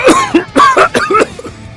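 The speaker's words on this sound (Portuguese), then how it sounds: "o mutante com fator de cura começa a tossir" A man coughs in a rapid series of about six harsh, throaty bursts with a little throat clearing, close and loud with no other sound around it, used as a comic effect.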